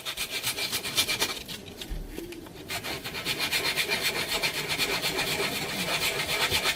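Rhythmic back-and-forth rasping of sandpaper wet sanding a Polymer 80 Glock frame, close and steady, with a short pause before the strokes resume at an even pace.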